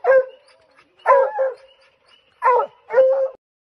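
Dogs give four quick, high yips and barks in pairs, close by, with short silences between them.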